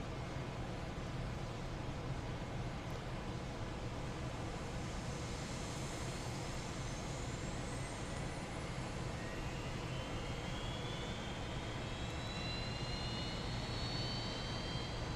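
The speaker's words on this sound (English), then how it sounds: "And you can see that our engine 1 is up. And we'll start engine 2." An A320 engine spools up during startup in a flight simulator, a steady broadband jet hiss and hum with a thin, rising whine that climbs gradually, moderately faint and alone.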